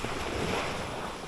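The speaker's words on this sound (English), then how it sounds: "And look on the beautiful ocean." Ocean surf at a private beach in Portland, Jamaica, roars as a steady, loud wash with wind buffeting the microphone throughout, and no voices are heard.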